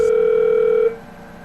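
Steady telephone dial tone, loud and close, holding for under a second before cutting off into low line hiss.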